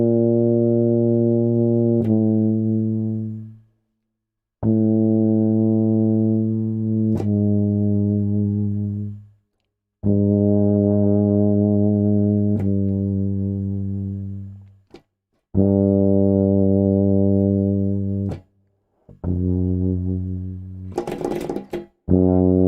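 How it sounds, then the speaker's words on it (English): A brass instrument plays a series of long held low notes, each starting soft and tapering away to near silence, with short pauses between them. "Start soft and then get as soft as you can."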